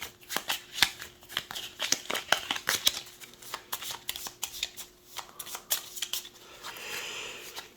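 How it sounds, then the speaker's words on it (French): A deck of playing cards for the board game This War of Mine being shuffled, a long run of close, crisp riffles and slaps with brief pauses between passes, no talking. "Alors, on va mélanger toutes les cartes déjà."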